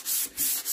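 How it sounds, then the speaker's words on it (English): A Dixie Belle sanding sponge lightly sands the paint on a drawer in a few quick back-and-forth strokes, each one a soft, close, rasping rub. "I'm going to take my Dixie Belle sanding sponge and I'm just going to lightly sand my paint."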